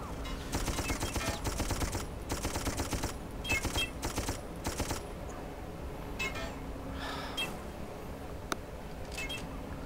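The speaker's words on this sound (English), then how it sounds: "And from where are they shooting me?" Enemy gunfire in Darkest of Days: repeated close bursts of rapid shots in clusters, tapering to sparser, fainter pops and a lone sharp crack later on.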